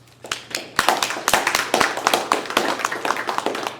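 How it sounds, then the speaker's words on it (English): A small audience at an independent filmmakers' business-of-art talk gives a round of applause, sharp separate claps building quickly into a fairly close, loud patter with no talking. "give yourself a round of applause."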